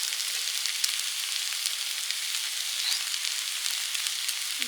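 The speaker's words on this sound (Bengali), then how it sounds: "দিচ্ছি জিরে ভাজা" Cumin seeds frying in hot oil give a soft, steady sizzle with faint crackles, heard alone and fairly quiet throughout.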